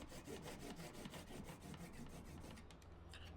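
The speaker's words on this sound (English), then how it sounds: "I'm just going in, cutting all the excess away" A hand saw cutting away excess scrap wood on a small Christmas craft piece: a rapid, steady back-and-forth rasp of strokes running the whole time, fairly quiet but close, with no talking.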